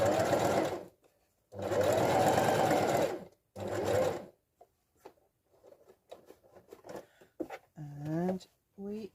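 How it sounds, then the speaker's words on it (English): A sewing machine runs in three long, steady bursts while stitching a circle on a fabric pot protector, with short pauses between runs as the fabric is turned, followed by quieter handling sounds and a person speaking. "lift your presser foot when you're turning your circle"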